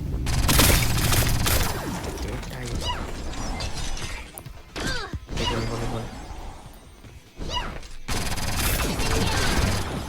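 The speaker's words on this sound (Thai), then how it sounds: "ถ้าเกิดเขาเดินมาชนก็คือมันจะระเบิดเลยนะครับ" Skill explosions in the mobile shooter T3 Arena burst out loudly in a dense run of shattering crashes and booms, mixed with whooshes and mechanical clatter, with brief lulls between bursts.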